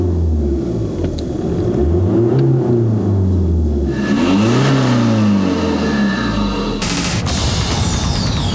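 Brand-new 2.0-litre turbodiesel in an Audi A3 2.0 TDI with 140 hp accelerating on a test track, its pitch climbing through several gear changes with sweeping rises and drops, loud and close, then a burst of wind and road roar.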